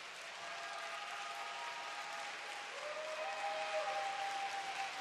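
Prolonged applause from the arena crowd for ice dancers at a European figure skating championship in Tallinn, a sustained wash of clapping that swells slightly, with a faint whistle-like tone rising through it.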